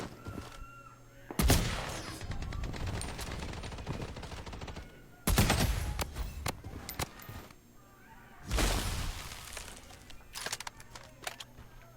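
Gunfire crackles in a shooter video game, with three loud bursts of shots breaking over a steady background of game noise and rattle.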